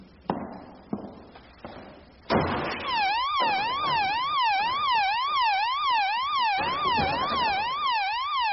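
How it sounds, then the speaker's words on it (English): A few sharp knocks and a door clunk, then a loud electronic alarm bursts on and warbles continuously up and down, an alarm system sounding in a radio mystery drama scene, with no voices. "You're probably going to hear a loud bell"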